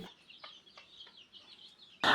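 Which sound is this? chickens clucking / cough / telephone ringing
chickens clucking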